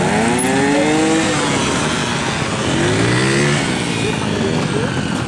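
A motorcycle engine on a riding course with cones revs and accelerates steadily, its loud, continuous drone rising and falling in pitch close by, with no pauses.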